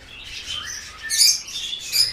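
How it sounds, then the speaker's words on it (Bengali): Yellow lories and other caged birds call at a busy bird market: sharp, shrill chirps and squawks come in bursts, fairly close, over a low background murmur, with no clear talk. "lorry, yellow colour lory"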